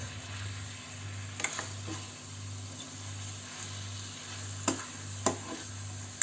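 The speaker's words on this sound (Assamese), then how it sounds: "এতিয়া মই মাংসখিনি ভাজি আছোঁ, এবাৰ লৰাই লওঁ।" Faint sizzling in a pan under a steady low hum, with a few sharp spatula knocks and scrapes as local chicken meat and peas are stirred.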